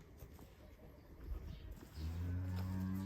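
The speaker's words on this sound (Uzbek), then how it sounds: "Mana sigirimiz." A Simmental dairy cow on a farm gives a single deep, loud moo close by, after a short stretch of faint rustling and shuffling.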